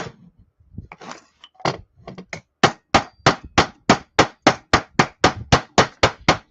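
Rawhide mallet striking copper sheet metal: a few scattered soft taps at first, then a steady run of about fifteen loud, evenly spaced sharp blows, close and clear with no talking.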